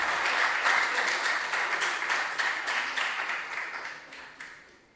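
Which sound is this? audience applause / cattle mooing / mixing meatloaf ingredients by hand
audience applause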